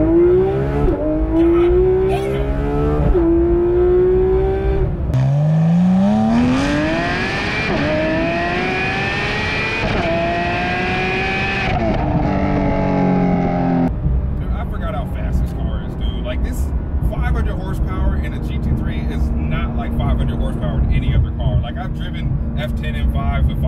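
A Porsche GT3 RS engine revs up through rising, whining gears, accelerating hard, then settles into a rumbling idle while a person talks over it.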